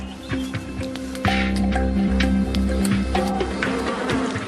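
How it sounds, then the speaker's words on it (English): Close, continuous buzzing of a swarm of bees in a honey-filled hive, a steady droning hum with a few brief knocks and shifts in loudness. "Listen to the amount of bees in there."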